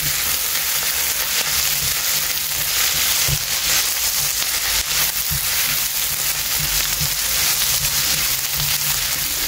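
An onion mixture frying with green chili, ginger and garlic for brinjal bharta, a loud continuous sizzle with soft thuds and scrapes of stirring throughout.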